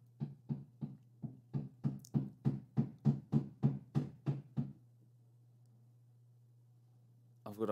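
Someone knocks about fifteen times in a quick, even run over a low steady hum, then stops and the room stays quiet.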